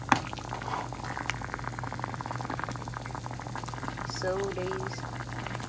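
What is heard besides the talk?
gari cooking in boiling water in pot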